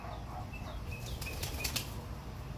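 A young racing homer pigeon flaps its wings in flight, a quick burst of soft, close wingbeats over faint background noise and a few distant chirps.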